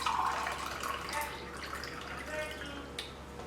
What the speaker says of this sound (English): I'm gonna add 1 more cup of water.